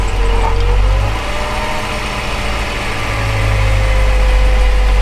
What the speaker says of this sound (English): So right now I'm just gonna start the car.